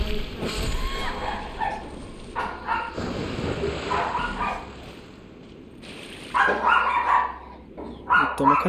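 A dog barking in Dark Souls 2, several sharp barks and yips in bursts over game ambience and noise, with a quiet stretch in the middle and louder barking returning at the end.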